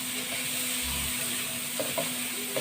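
Garlic and onion frying in margarine and a little oil, giving a steady close sizzle and hiss with a couple of faint stirring clicks near the end, no speech.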